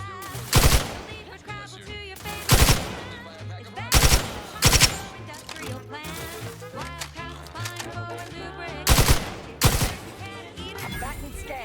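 Gunfire in The Outer Worlds 2: loud bursts of automatic fire arriving in repeated clusters, with short gaps of battle noise and music between volleys.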